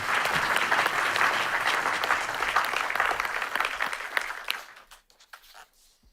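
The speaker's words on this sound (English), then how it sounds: "if I could have a round of applause" A warm round of applause from the audience at the Helsinki Security Forum 2022, dense sustained clapping that thins to a few last claps and trails into quiet near the end.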